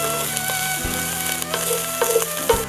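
Diced Canadian bacon sizzles loudly in a skillet on high heat, a steady close frying hiss broken by crackles and occasional stirring scrapes.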